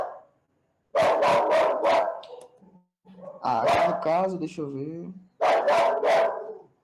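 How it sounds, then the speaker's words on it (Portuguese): A dog barks in quick bursts of three or four sharp yaps, close and loud, separated by pauses, while someone speaks Portuguese between the bursts indoors. "o cachorro começou a latir"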